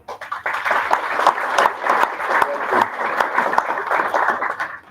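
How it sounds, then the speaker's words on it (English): A graduation ceremony audience claps continuously, a dense sustained round of applause from a large crowd in a hall that fades out near the end. "This clap is more for your parents."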